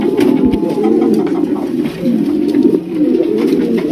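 A large flock of big Indian Bombay pigeons coos continuously in a loud, dense, overlapping murmur, close by and with no speech over it.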